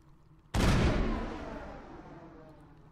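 A single loud gunshot from Mass Effect cracks out close and sharp, then rolls off in a long, fading echo.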